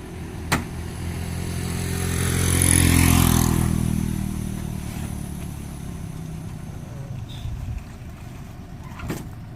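A motorcycle engine swells as it approaches and passes close by, peaking midway, then fades into steady road rumble with a few clicks.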